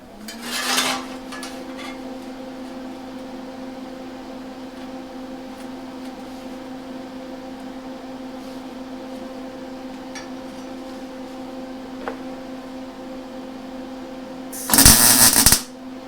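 A Lincoln Electric Handy MIG welder lays tack welds, with two short bursts of harsh crackling at the start and near the end over a constant electrical hum.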